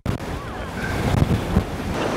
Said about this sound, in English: the wind is not giving up whatsoever